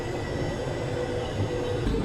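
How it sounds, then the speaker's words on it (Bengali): A passenger train pulling out of Ramanathapuram station, heard from inside the carriage as a steady loud rumble of wheels and wagon noise, with no talking. "এখন ছাড়লো রামনাথপুরম স্টেশন থেকে আমাদের ট্রেন"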